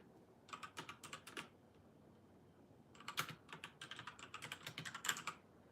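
Typing on a computer keyboard with long fingernails in a quiet ASMR setting: two clattering bursts of quick, irregular keystrokes separated by a short pause, close and crisp, with no one speaking.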